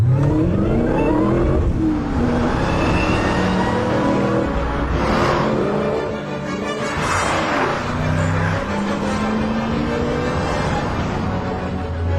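A loud supercharged 6.0-litre LS2 V8 in a Vauxhall Monaro VXR 500 revs hard and accelerates, its exhaust roaring and rising in pitch through the gears, close and aggressive.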